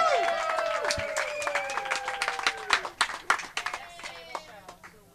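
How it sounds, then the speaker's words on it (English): Audience applause at a Kulis Cup celebration, crisp hand claps from a modest crowd building in intensity, with a faint tonal whistle sweeping beneath and scattered claps trailing off at the end. "Another round of applause for Joey, please."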